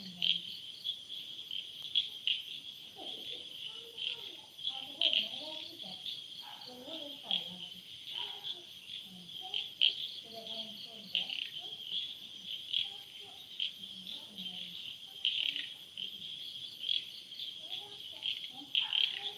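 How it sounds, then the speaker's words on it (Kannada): Frogs croak at night in a village during a power cut. Their low, irregular calls are faint beneath a steady, high chirring of crickets that never stops. "ಕಪ್ಪೆಲಿನ ಮ್ಯೂಸಿಕ್ ಒಂದುಂಟು ಗೈಸ್"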